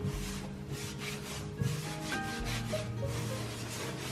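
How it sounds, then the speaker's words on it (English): A cloth or sponge rubs excess grout off kitchen tiles and along the grout lines, a close, steady scrubbing swish in repeated strokes with no voices. "You can also rub it in the grout lines, make sure that they're nice and smooth."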